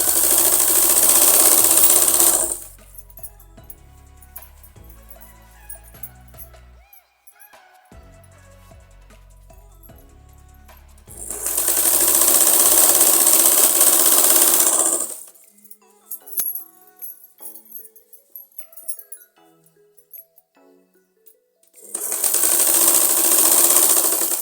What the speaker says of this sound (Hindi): जहाँ तक हमारा कट है वहाँ तक हमने सिंपल सिलाई लगानी है